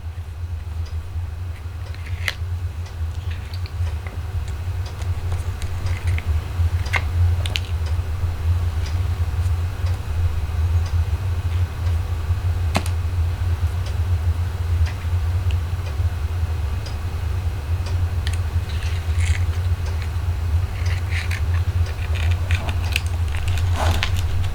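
Die-cutting machine cutting a piece of card with zig zag dies, giving a steady low mechanical rumble with scattered small ticks and creaks throughout, continuous and fairly loud, with no talking.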